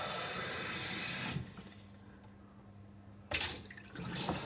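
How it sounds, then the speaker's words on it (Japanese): A tap runs with a steady rushing splash, cuts off for a couple of seconds with a low hum underneath, then gushes on again. "水の音で喋ってる声聞こえねえじゃん"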